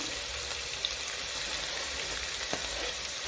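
Garlic drops into a hot pan and sizzles with a steady, faint frying hiss, broken by a couple of small crackles and stirring clicks, with no voices.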